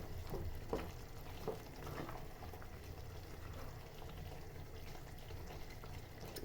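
Sausages and Indomie noodles stirred in a hot pan, a low, continuous sizzle with soft scraping stir strokes, fairly quiet and close.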